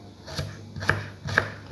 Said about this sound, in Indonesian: Kita potong iris kecil-kecil.